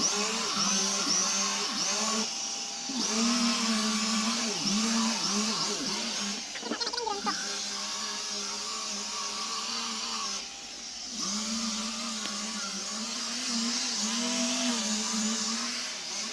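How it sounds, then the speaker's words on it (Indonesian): A steady, whining power-tool drone runs throughout, with brief dips and a few clatters, as a machine sander with 80-grit sandpaper works wood for a wooden balance bike. "Selanjutnya kita masuk proses pengamplasan. Saya menggunakan amplas grade 80 untuk amplasan pertama."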